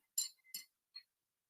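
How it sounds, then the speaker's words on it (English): Glass drinking straws clink together in three bright, quick taps, close and quiet against near silence. "I really like the glass straws. They're the sound of them tinking is very satisfying."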